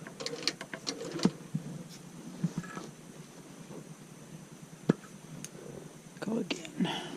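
A quilting sewing machine stitching across a purple quilt, heard as short bursts of mechanical stitching and clicks between quiet pauses, with a soft voice speaking intermittently nearby.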